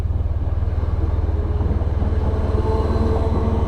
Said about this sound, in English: waiting for the train to come